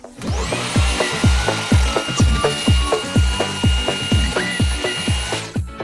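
Rapid, rhythmic sharp knocks strike over and over as a hammer drives a chisel to chip out plaster for a wall socket box, with a faint high whine in the background.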